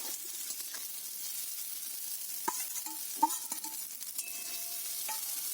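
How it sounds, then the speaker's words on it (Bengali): Chow mein with fried egg is stirred in a pan, giving a steady frying sizzle broken by a few scraping and clinking strokes of the utensil. "খুব ভালো করে নেড়ে চেড়ে মিশিয়ে নেব।"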